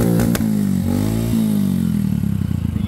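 Motorcycle engine revving up close, a loud rising and falling buzzing drone with a few quick throttle blips, idling roughly toward the end.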